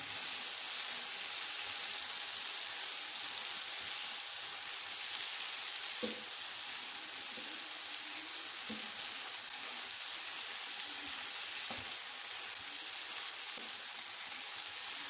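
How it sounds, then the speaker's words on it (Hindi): Okra and masala frying in a pan, a steady soft sizzle with occasional faint clicks of stirring, continuous and moderately quiet. "चार मिनट तक हमने इसको भून लेना है।"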